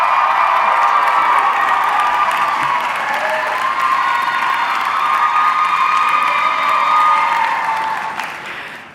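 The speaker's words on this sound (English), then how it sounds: "let's give Ben a round of applause as well" A commencement crowd at the WesternU College of Health Sciences ceremony applauds an MSPA graduate named Ben, with loud sustained clapping mixed with cheers and whoops that tapers off at the end.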